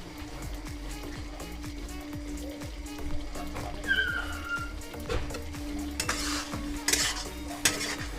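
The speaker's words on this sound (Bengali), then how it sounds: "একটু এপিট ওপিট করে নাড়াচাড়া করে উপর থেকে দিয়ে দেবো রোস্টেড তিল" Korean chicken being stirred in a pan, metal utensil scraping and clinking against the cookware in a quick repeated rhythm over a low simmering sizzle, close and fairly loud, with a brief faint voice.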